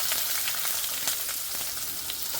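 Onion, ginger and garlic frying in oil for dal palak tadka, a close, continuous sizzling hiss with small crackling pops and no talk.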